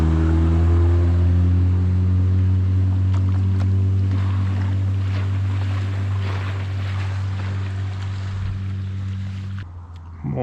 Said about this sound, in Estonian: Mootorpaat pani siit edasi.